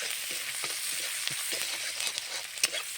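Onion sizzles in a hot pan, a bright steady frying hiss broken by soft stirring scrapes and small pops, close and moderately loud.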